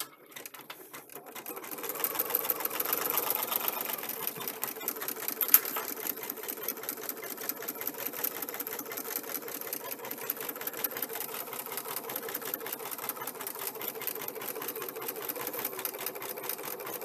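A sewing machine runs steadily for about fifteen seconds after a brief start, its motor whirring with a fast, even needle rhythm throughout, close and clear with no talking.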